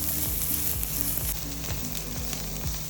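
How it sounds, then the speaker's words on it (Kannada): Garam masala spices frying in a pan for green chicken masala, with a steady bright sizzle and a spoon scraping the pan in regular strokes, close and continuous. "ಇದು ಹಾಕಿದ ನಂತರ ಸ್ವಲ್ಪ ತಳ ಬಿಡದ ಹಾಗೆ ಸ್ಪೂನ್ ಹಾಕಿ ಚೆನ್ನಾಗಿ ಮಿಕ್ಸ್ ಮಾಡಿ ಸ್ವಲ್ಪ ಫ್ರೈ ಮಾಡ್ಕೊಳ್ಳಿ"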